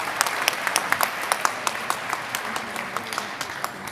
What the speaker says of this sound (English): Another big round of applause for our panelists.